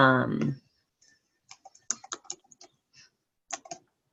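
Typing on a computer keyboard heard up close: a burst of quick, irregular key clicks in short clusters, following a brief spoken word at the start.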